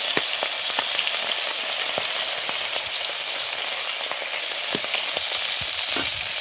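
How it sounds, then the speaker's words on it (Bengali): Hilsa fish heads frying in hot oil with a little fish oil added, giving a loud, steady sizzle peppered with sharp crackles and pops throughout, close to the pan and with no talking. "তেলটা গরম হয়ে গেছে, এবার মাছের মাথাগুলো দিয়ে দিলাম।"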